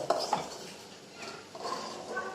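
Halwa is stirred in a pot on the stove, a spoon scraping and clinking against the metal with soft knocks, close and fairly quiet.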